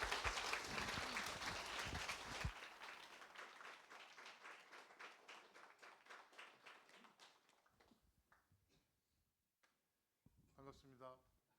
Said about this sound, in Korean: 여러분 우리 박수로 우리 집사님 찬양 드리겠습니다.